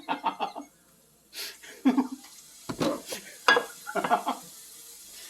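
Shrimp hit a hot pan for linguine Alfredo with asparagus, giving sharp sizzling bursts mixed with clattering pan and utensil noises, close and fairly loud, with brief background talk and laughter between them.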